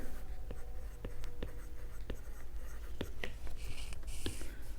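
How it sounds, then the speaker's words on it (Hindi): Pen scratching out answers on paper during a class 7 maths lesson on integers, with soft repeated strokes and taps close by against a quiet room hum. "लिखते हैं करेक्ट आंसर्स, ऐसे लिखते हैं।"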